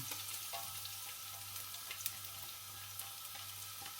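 Garlic sautéing in a pan for Ilocano igado, a steady low sizzle and crackle running quietly throughout with a few faint clinks, no voices.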